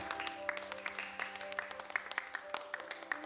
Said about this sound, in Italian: Alessandra Stoian, anche lei un bel applauso